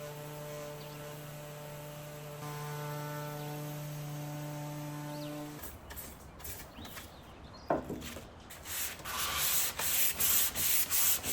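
An electric sander works over a painted antique dresser: a steady mains-like hum gives way to harsh, rasping strokes that grow louder and more rhythmic toward the end, with no voices.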